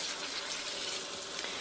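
Water running into a kitchen sink while greens are rinsed for a second time, a steady close splashing hiss with no pauses and no talk.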